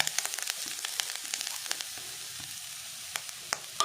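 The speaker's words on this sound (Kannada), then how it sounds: "ತುಲೆ ನೀರುಳ್ಳಿಲ ಬೆಳ್ಳುಳ್ಳಿಲ ಲಾಯ್ಕ್ ಫ್ರೈ ಆಂಡ್ ಈತ್ ಕೆಂಪು ಕೆಂಪು ಫ್ರೈ ಆವಡು" Onion and garlic frying in a pan for chicken curry, a steady close sizzle crackling with sharp pops and spits scattered throughout, no voices.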